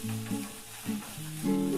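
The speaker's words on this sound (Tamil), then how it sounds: "இதை எல்லாத்தையும் சேர்த்து 1 நிமிஷம் நல்லா வதக்கிக்கோங்க." Chopped tomatoes and curry leaves sautéing in a pan with small onions, a close, steady sizzle broken by the brief scrape and clatter of stirring, with no one talking.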